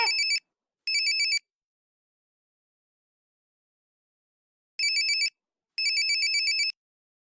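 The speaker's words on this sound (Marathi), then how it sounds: "तुझा फोन वाजतोय" An electronic phone ringtone plays in four short bursts, two quick ones, a long pause, then two more, clear and close with silence between.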